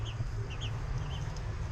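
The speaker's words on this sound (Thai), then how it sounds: "เป็ดน้อย" Small ducklings peep in quick, faint high chirps over a steady low background rumble outdoors.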